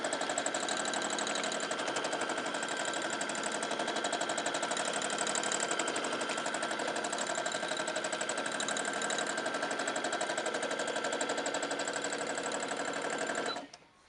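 A sewing machine runs steadily, stitching fabric for nearly fourteen seconds in a fast, even mechanical whir up close, then stops abruptly at the end.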